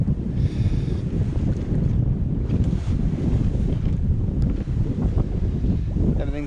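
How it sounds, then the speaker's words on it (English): Strong 16-knot wind roaring across the microphone aboard a sailboat off the south coast of England, loud continuous buffeting with water rushing beneath, steady throughout. "It's a lovely wind, 16 knots."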